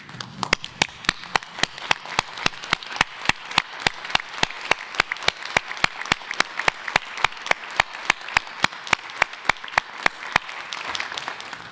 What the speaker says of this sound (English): give him a record applause of a job well done